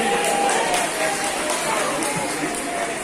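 A church congregation claps and cheers in a broad, continuous wash of applause and crowd noise that fills the space, with voices mixed into it.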